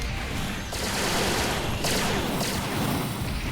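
Sustained gunfire in the mecha video game Gundam Battle Mobile, a dense, loud barrage of rapid shots that runs continuously with brief dips, like a fusillade with no speech over it.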